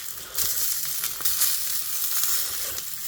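Steak frying in a pan, a loud, dense sizzle of hissing fat with scattered crackles and spits, heard close up with no talking.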